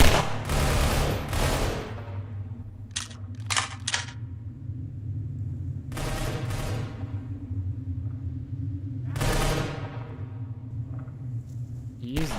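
Rebels fighting zombies in Garry's Mod, with bursts of gunfire and rapid shots popping out over a low rumble at a distance, spread across the clip while a voice talks intermittently.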